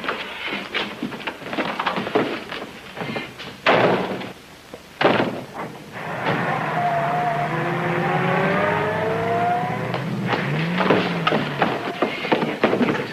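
A getaway car in a 1941 bank-robbery film: several sharp door slams are followed by the engine starting, revving loudly and roaring as the car pulls away, close and without talking.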